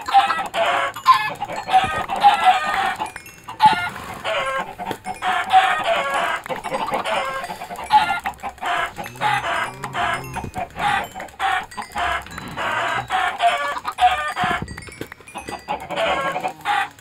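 Many Minecraft chickens cluck steadily on a crowded video game chicken farm, a dense, continuous chorus of overlapping clucks heard close with no talk.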